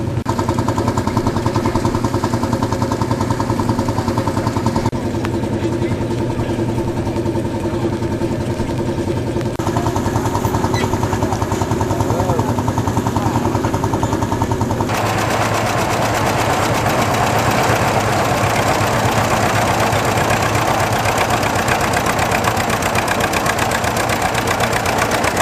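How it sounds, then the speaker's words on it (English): A 1950 Turner Yeoman of England vintage tractor engine runs steadily in wet weather, a continuous loud mechanical chugging that stays even throughout, with no voices. "This Turner Yeoman of England tractor was our 1950 exhibit."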